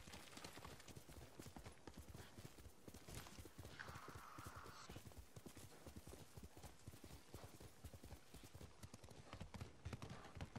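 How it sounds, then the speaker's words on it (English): Horse hooves gallop in a fast, steady clip-clop rhythm throughout, heard while riding in the video game Ghost of Tsushima, loud and continuous with a brief softer rushing layer midway. "the sound when it's like galloping"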